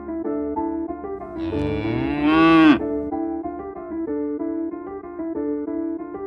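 A cow lets out one loud, drawn-out moo that swells and breaks off, set over a bright, bouncy children's music backing that plays throughout.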